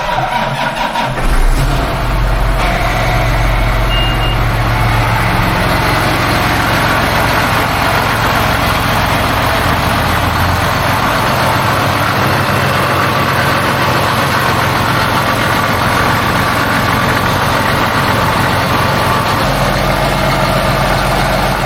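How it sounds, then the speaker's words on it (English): A John Deere 8130 tractor's diesel engine cranks and catches after repairs, then settles into a loud, steady low rumbling idle that continues for the rest of the recording. "Here's to hoping the tractor starts"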